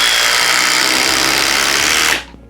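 A Flex cordless drill drives a 5-inch power lag screw with a loud, continuous high-pitched whine that runs for about two seconds and then cuts off abruptly.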